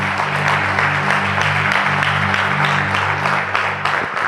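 A congregation at an Easter church service claps steadily in a dense, continuous wash of applause, loud and close, with sustained low musical tones droning underneath throughout.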